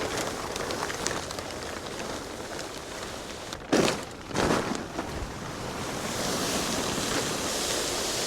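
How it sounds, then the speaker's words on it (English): Water drains and flows from a folded outdoor rink liner, a steady rushing wash with a couple of louder splashing surges partway through. "Let that flow, drain the last little bit of water."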